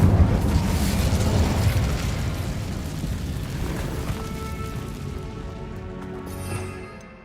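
A fire spell in Hogwarts Legacy bursts loud and booming, then crackles and roars as it slowly fades over several seconds into quieter ringing tones.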